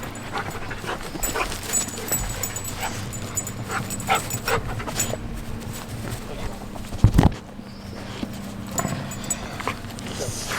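A dog, a little puppy, close to the microphone, snuffling and whimpering amid steady background noise, with one brief louder bump as it nudges the mic; no clear speech over it.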